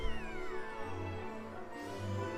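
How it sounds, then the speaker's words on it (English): A pet cat named Theo meows insistently at a closed door, giving a drawn-out, wavering cry that falls in pitch and is then followed by a second shorter call, close and loud against faint game music. "And then Theo's meowing again."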